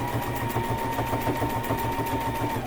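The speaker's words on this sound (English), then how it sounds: "Sew and back stitch." A sewing machine runs a half-inch seam with a back stitch on a bulky fabric casserole carrier, its needle thumping in a quick steady rhythm under a motor whine, close and unbroken.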